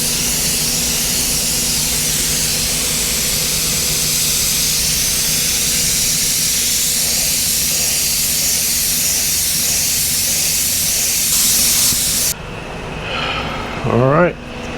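Pearl paint coat sprayed onto a Mustang with a spray gun, a steady, loud airy hiss running nearly fifteen seconds before cutting off abruptly near the end, leaving quieter room noise and a brief rising squeak.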